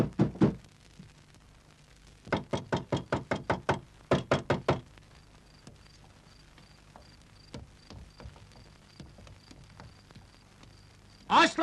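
Loud banging knocks on a door in two rapid bursts of about six to eight blows each, then quieter scattered taps and a final burst near the end, with faint voices in between.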